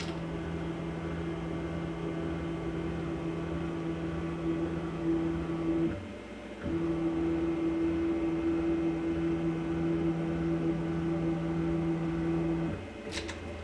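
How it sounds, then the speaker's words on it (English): A Genmitsu ProVar XL 2x2 CNC machine jogging its axes gives a steady, even motor whine that holds for several seconds, cuts out briefly, then resumes at the same pitch before stopping again. "I'm simply jogging the machine until I find the origin point here in the lower corner."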